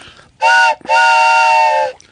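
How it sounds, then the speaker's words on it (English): A bass whistle played with a deep, hollow, train-whistle-like tone: one short blast, a brief gap, then a longer sustained note, loud and steady, with faint sounds before and after. "It's a bass whistle."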